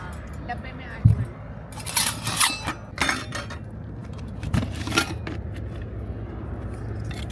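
Kitchen utensils clatter and clink in a home kitchen while a flour sieve and dough-kneading bowl are fetched for making chhole bhature, with several sharp metallic knocks over a steady low background hum and faint voices.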